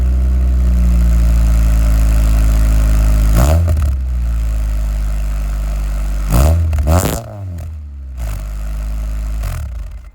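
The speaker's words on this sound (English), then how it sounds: "Let's start up the car and see how it sounds." A modded Honda Accord's engine rumbles loudly at close range, with low, heavy tones. Several rough bursts and clattering surges break up the steady idle.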